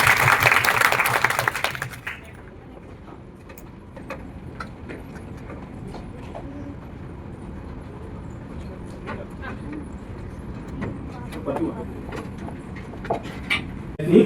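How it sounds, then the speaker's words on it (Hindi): An audience claps loudly in a short burst at the very start, then the applause stops abruptly and quieter talking and scattered small noises follow for the rest of the clip. "एक बार लोगों के लिए जोर से ताली बजाइए"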